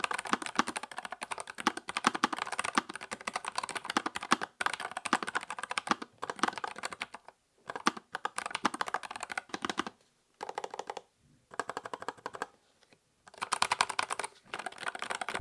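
Close, clicky keystrokes on a low-profile mechanical keyboard with wisteria switches in quick continuous runs, broken by a few brief pauses; no voices present.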